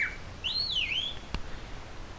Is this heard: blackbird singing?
yes